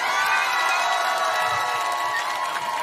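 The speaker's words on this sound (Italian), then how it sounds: "al mio 3, l'applauso va per gli Squacqueroni" A large outdoor crowd at a summer evening event in Romagna cheers, whoops and shouts for the Squacqueroni, a loud sustained roar with high children's voices and scattered clapping mixed in, holding steady throughout.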